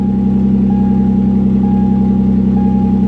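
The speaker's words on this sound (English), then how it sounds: "It's idling down. It runs good." A Ford Contour engine with an exhaust leak idles with a steady, even low hum and a faint high whine, loud and close, with no voices.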